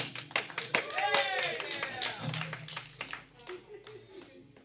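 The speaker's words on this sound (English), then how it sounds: "You can start clapping already." An audience at a Siouxsie tribute rock gig in an underground club claps in scattered, irregular bursts mixed with crowd noise and a voice calling out, the clapping loosening and fading toward the end.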